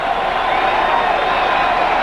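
A baseball stadium crowd at a 1998 Texas Rangers game, on their feet during a two-strike count, produces a distant, steady wash of cheering and crowd roar with no distinct voices.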